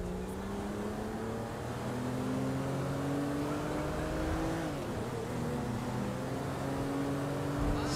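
Steady engine drone of a car driving in GTA 5, a continuous close hum with shifting tones as the vehicle accelerates and changes gear, with no voices over it.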